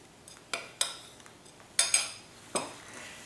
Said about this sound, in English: Just mix it well.